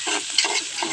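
A spatula stirs leafy greens frying in a pan with salt, turmeric and chili powder, giving a few close, scraping strokes over a soft sizzle.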